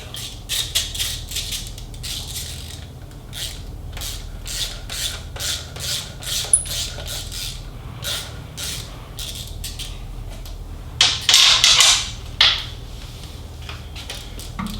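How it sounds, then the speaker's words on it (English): Metallic rubbing, scraping and rattling of a 1/4 inch hex bit removing Allen bolts from the bottom of a Harley-Davidson Milwaukee-Eight transmission case, in short irregular bursts with a louder grinding stretch near the end. "we're going to start with removing the two Allen bolts at the bottom of the transmission case"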